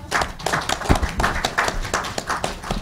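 An audience at a 1998 Envisioning California conference panel on Proposition 13 claps in a brief, uneven burst of applause heard nearby.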